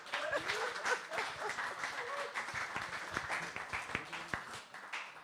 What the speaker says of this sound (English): Ladies and gentlemen, a round of applause for our super duper duo.